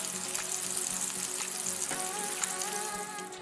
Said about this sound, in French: Nous allons commencer par faire frire les frites dans la friteuse.